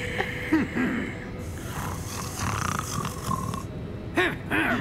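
A creature snoring in the Hogwarts Legacy video game: rough, grunting snorts that rise and fall in a slow rhythm, close and fairly loud, mixed with faint mechanical clicking in the background.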